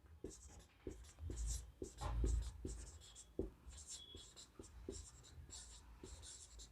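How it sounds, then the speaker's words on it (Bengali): Pen or chalk writing on a surface during a physics lesson, a series of short scratchy strokes and taps in an irregular rhythm, close by, with occasional soft voice sounds between them. "তো এখানে লিখে দিচ্ছি"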